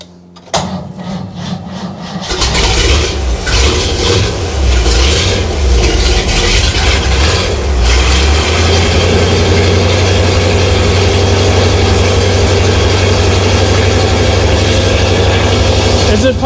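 A 1948 Willys Jeep engine cranks briefly, then catches and settles into a loud, steady, low rumbling idle that runs on for many seconds.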